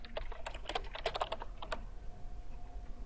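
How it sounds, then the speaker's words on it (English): Fingers type a reply on a computer keyboard into a discussion board text box, giving a close, quick patter of light key clicks in short bursts that thin out and stop, with faint room hiss throughout. "type your reply into the text box"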